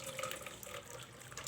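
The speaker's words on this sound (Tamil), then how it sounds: "நம்ம ஏற்கனவே ரெடி பண்ணி வச்சுருக்க பாலை இதில் நம்ம ஊற்றி வடிகட்டிக்கலாம்." Milk pours in a steady stream through a cotton cloth strainer, a continuous close splashing trickle with no breaks, moderately quiet.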